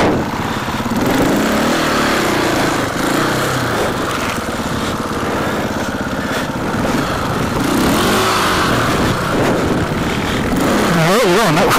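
An enduro motorcycle engine revs hard and continuously while the bike is stuck in a slippery rut at an enduro park, loud and close with the pitch rising and falling.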